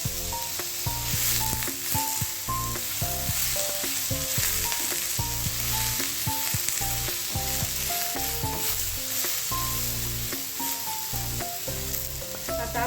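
Spice masala for misal roasting in a pan with coriander stems, a steady close sizzle and crackle with stirring scrapes running continuously and fairly loud throughout.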